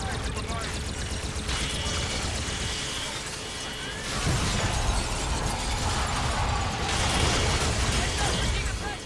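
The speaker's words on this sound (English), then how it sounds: "why don't we just shoot out all the glass?" Glass shattering under gunfire in the video game Call of Duty: Infinite Warfare, a dense crashing burst repeated over a continuous clatter of game noise and shots.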